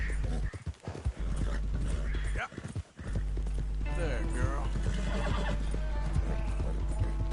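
A horse in Red Dead Redemption 2 whinnies loudly over rapid clip-clopping hooves, with a few brief dips in the steady galloping rumble and a voice talking intermittently.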